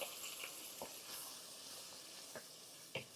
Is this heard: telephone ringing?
no